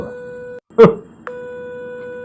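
Telephone busy tone pulsing steadily after a call is cut off, a short gap broken by a brief burst of noise, then the tone resumes, loud and close.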